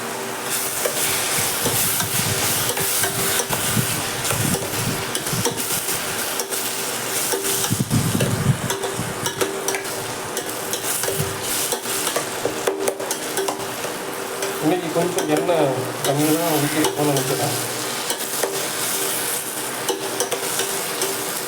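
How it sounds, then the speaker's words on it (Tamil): Tomato and other ingredients for a banana-flower kuzhambu being sautéed in a pan over a medium flame, a steady sizzle with bursts of stirring and scraping throughout, and a voice talking briefly near the end. "வதக்கிட்டு இருக்கோம் மீடியமான ஃப்ளேம் வச்சு வதக்கிட்டு இருக்கோம்"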